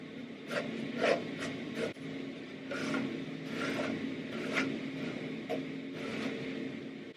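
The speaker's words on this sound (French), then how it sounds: "Je prends simplement ma brosse, la même qu'avant, et puis je vais simplement passer quelques coups." Close, repeated rasping strokes of a hairbrush pulled through curly hair to loosen the curls. Several steady brushing swipes come at an even pace, fairly soft, with no talking.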